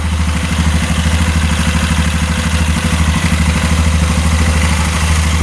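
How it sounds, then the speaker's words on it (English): A UTV engine idles steadily close by with a rapid, even exhaust pulse and a low rumbling throb, constant throughout. "Nice strong exhaust."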